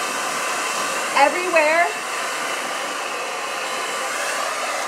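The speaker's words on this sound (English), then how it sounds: "it's a ceramic blow dryer" A ceramic blow dryer on its cold setting gives a steady airy roar close by, with a voice talking briefly over it.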